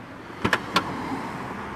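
Boot latch on a Mercedes-Benz A45 AMG released and the tailgate opened: a couple of sharp mechanical clicks followed by a third click, quiet and close with a faint hum behind.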